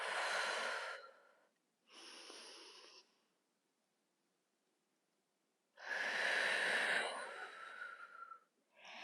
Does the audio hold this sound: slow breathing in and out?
yes